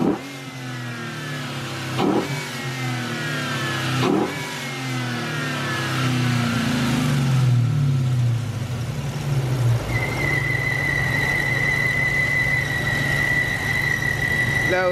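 A Dodge SRT 6.1 engine with a ported manifold gives a few sharp revs, then settles into a rough idle as a steady high whistle sets in and holds, close to the microphone.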